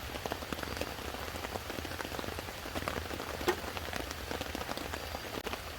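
Steady rain patters on a tarp over a stealth camp in a city park, dense close drumming of drops with scattered louder hits, no voices.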